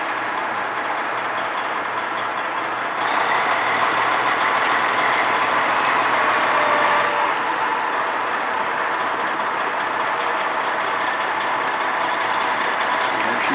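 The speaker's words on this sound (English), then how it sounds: "He's backing the trailer under." Hydraulic boat trailer backing beneath an Allied 36 sailboat up on stands for a spring launch, giving a steady, fairly loud engine drone that swells partway through and carries on throughout, with no talk.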